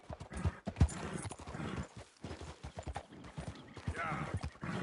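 A horse trots in Red Dead Redemption 2, the clip-clop of its hooves mixed with game sound and frequent talk from a player over it.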